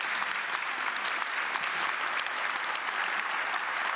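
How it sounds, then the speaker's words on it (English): An audience at a political dialogue event in Karlovy Vary applauds the panelists, with dense, even clapping from a large room that holds steady for several seconds. "please give a warm applause for our panelists."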